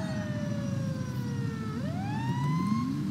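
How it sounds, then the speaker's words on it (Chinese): A fire truck siren from the GTA 5 video game wails continuously, its pitch gliding down and then sweeping back up in a smooth cycle, steady and moderately loud with no talk. "有了消防车来，拿了消防车去玩。"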